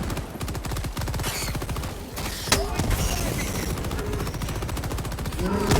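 Rapid video game gunfire rattles continuously in dense bursts, loud and close, with a sharp blast near the middle and constant combat noise throughout.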